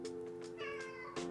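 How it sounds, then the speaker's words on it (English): A pet cat meows loudly indoors, two or three drawn-out harmonic calls in quick succession, close to the microphone with no talk over them. "Max is meowing very loudly right now for some reason while I'm recording"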